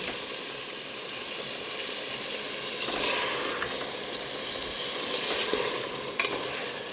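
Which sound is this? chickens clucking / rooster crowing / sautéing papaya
sautéing papaya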